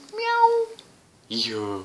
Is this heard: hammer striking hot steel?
no